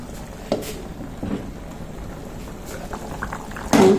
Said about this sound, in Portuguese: Vou deixar fervendo aqui por um minutinho.